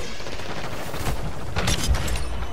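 Gunfire in the video game Call of Duty MW2, with a steady wash of battle noise broken by a few sharp, loud shot bursts near the end.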